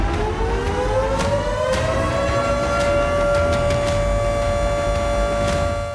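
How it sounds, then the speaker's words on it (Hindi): A civil defense siren sounds at midnight near Valdai Lake in Novgorod, a sustained loud rising wail that levels into a steady tone and holds without break over background hum. "व्लादाई झील के आसपास का पूरा इलाका सायरन की आवाज से गूंज उठा"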